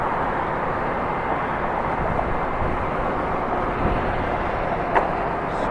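A Korean Air Boeing 747-8 sits close up at Atlanta airport, its engines giving a steady, loud broadband roar that holds evenly throughout with no talk.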